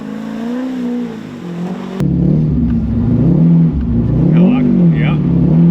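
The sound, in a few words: C5 Corvette engine revving, 500 horsepower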